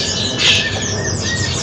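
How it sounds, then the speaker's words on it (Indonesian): A murai air bird calls in a bird kiosk with other caged birds, a short squawking call that rises briefly, fairly close, over a dense background of chirping and chatter. "Selanjutnya ini ada burung murai air."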